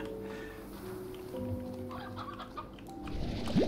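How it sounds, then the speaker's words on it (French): Chickens clucking in the video game Slime Rancher, with a steady run of soft, close clucks over a low background hum and a brief rising tone near the end. "Y a des poules en bas."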